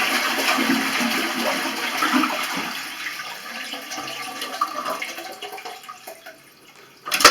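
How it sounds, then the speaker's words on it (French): A household toilet flushes as the tank releases its water, a loud rushing gush that gradually tapers into trickling and gurgling refill, heard up close with no talking. "Vous libérez la chasse d'eau."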